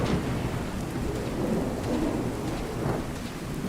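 A thunderstorm in Fallout 4, with heavy rain hissing steadily and deep thunder rumbling throughout, loud and continuous with no voices.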